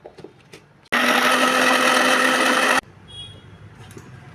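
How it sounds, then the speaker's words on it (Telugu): A kitchen mixer grinder blends green chilies with salt and water into chutney, running in one loud, steady whirring burst of about two seconds, with quiet handling sounds before and after. "ఇప్పుడు ఇది మిక్సీ వేసేసుకుందాం"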